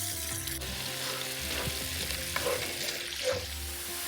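Ground onion sizzles steadily in about two tablespoons of hot oil in a pan, a continuous close frying hiss with occasional stirring scrapes and spits, with no voices.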